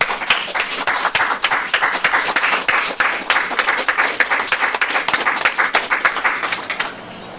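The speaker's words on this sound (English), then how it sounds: "So I would like to applaud them." Steady, dense applause from a crowd at a press conference runs for around seven seconds at even strength, then stops abruptly.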